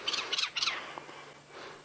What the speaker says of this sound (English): Looked like a Jacobin cuckoo that flew over the top of us.